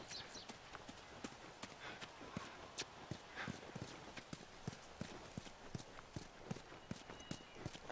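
Steady clip-clop of horse hooves trotting in the video game The Last of Us Remastered, evenly spaced sharp knocks at moderate volume over a faint ambient background.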